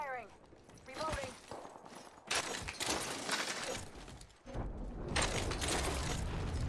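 Rapid gunfire and reload clatter in a fast shooter video game, dense bursts of shots and impacts that swell loud after a quieter start, with a brief dip before the firing resumes.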